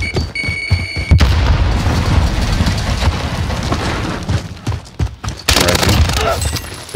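Loud Call of Duty Warzone combat fills the space, with a grenade blast and sustained rumbling gunfire rolling over a constant roar, and further sharp volleys near the end.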